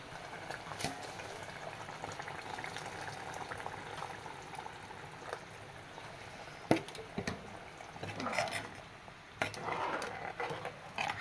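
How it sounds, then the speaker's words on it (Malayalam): Sardine curry with coconut milk bubbling and simmering in a pan, a steady soft boil with occasional louder pops and clinks of the pan, fairly close and without talk. "ഇതൊന്ന് തിളച്ച് വരട്ടെ."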